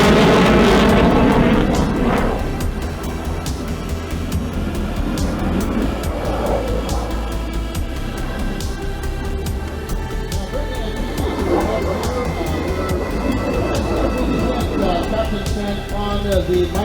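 A CF-18 Hornet jet roars through a strafing run at an air show, a loud, sustained jet rumble that stays heavy throughout, with an announcer talking over it.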